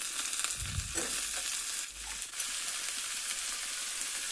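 Brinjals frying in a pan with onions and green chillies, a steady close sizzle with brief louder bursts of stirring and clattering as the vegetables are tossed.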